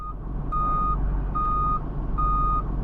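Tow truck reversing in a video game, sounding three evenly spaced, steady electronic beeps over a low, constant engine rumble, with no talk.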